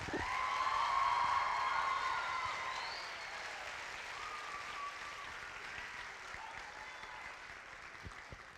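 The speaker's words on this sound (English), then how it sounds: "Can't we just give them one more round of applause?" Sustained audience applause at a Hudson Ambassador coronation pageant, loud at first and then settling into a steady, slightly softer wash of clapping that carries through to the end.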